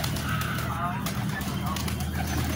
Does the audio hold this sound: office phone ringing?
no